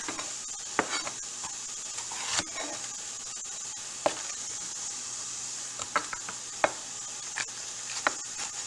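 A knife chops a green pepper on a cutting board, giving a handful of sharp, irregular knocks against a steady background hiss, with no voices.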